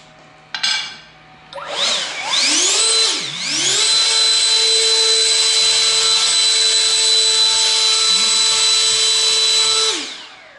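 A Kobalt 80-volt 800-cfm battery leaf blower spools up to full speed, a loud, close, rising whine that settles into a steady high-pitched roar and then cuts off at the end.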